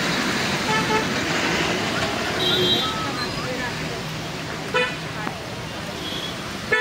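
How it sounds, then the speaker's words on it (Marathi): Congested road traffic jam during Navratri festivities, engines idling and a few scattered car horn toots, while people talk nearby over the steady hum. "इकडं भरपूर ट्रॅफिक लागले,"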